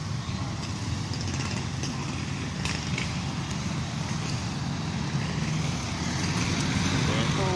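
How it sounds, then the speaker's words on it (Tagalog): Heavy street traffic on a busy road on foot toward a market, a continuous dense rumble of cars and engines nearby, with a voice talking over the din. "Sobrang traffic, grabe mga kasikyo."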